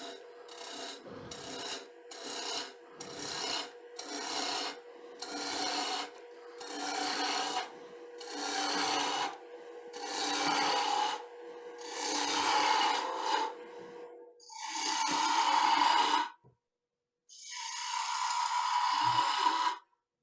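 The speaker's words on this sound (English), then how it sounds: "It's probably slightly quicker with a spindle roughing gauge." A spindle roughing gouge cuts spinning wood on a lathe while turning Christmas trees and snowmen, giving rhythmic rasping scrapes in short repeated strokes that grow longer and louder, with a brief silent pause near the end.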